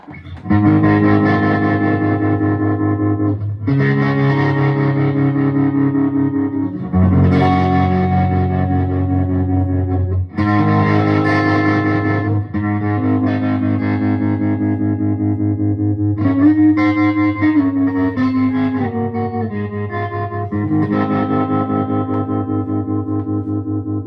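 Overdriven electric guitar, tremolo pedal placed before the overdrive pedal, playing sustained chords that pulse with a steady tremolo wobble, loud and continuous with no talking.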